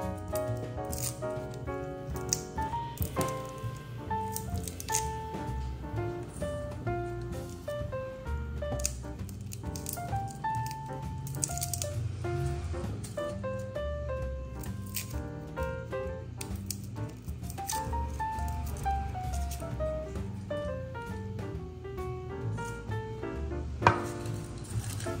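Garlic cloves are peeled and dropped into a mortar, giving small scattered clicks, taps and rustles against a background of soft music.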